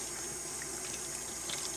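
Steady running water from a tap as 16-ounce glass jars are washed in warm soapy water in a homestead kitchen sink, a continuous hiss with faint clinks near the end.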